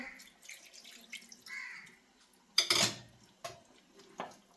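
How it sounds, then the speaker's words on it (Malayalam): Water is poured into a cooking pot in a short splashing gush, surrounded by a few soft clinks and knocks of kitchenware. "കുറച്ചുകൂടി വെള്ളം ഒഴിച്ച് കൊടുക്കാം അല്ലെങ്കിൽ കഷ്ണങ്ങൾ വേവുമില്ല"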